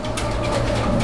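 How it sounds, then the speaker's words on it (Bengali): A pair of Archangel pigeons coo in a steady, low, close murmur over a constant background hum, with no talk. "এখানে একজোড়া আর্সেঞ্জেল কবুতরের কালেকশন রয়েছে"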